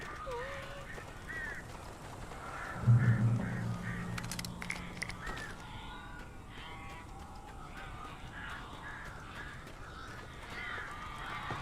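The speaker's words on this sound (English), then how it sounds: "These birds are weird." Crows cawing in Alan Wake Remastered, a string of harsh repeated caws from nearby birds, moderately loud, mixed with an eerie ambient rumble and a brief thud, with a voice talking over them.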